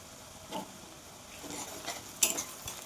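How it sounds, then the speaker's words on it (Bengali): Onion and crushed garlic frying together in a pan for Bengali mutton curry, a soft sizzle broken by a few scraping stirs and light clinks of a spoon against the pan, with no voices. "রসুনটা দেওয়ার পরে পেঁয়াজ আর রসুন একসাথে ভেজে নিতে হবে"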